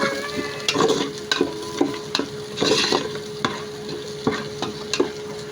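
Pork sizzling in hot oil in a pan for dinuguan, with a continuous crackle and repeated sharp scrapes and clinks of a utensil stirring at an uneven rhythm.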